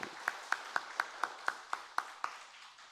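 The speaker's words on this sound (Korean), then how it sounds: "하나님께 영광의 박수를 올려드립니다" A church congregation at a Korean Full Gospel service claps in unison, about nine evenly spaced claps in a quick steady rhythm, fairly soft and fading slightly toward the end.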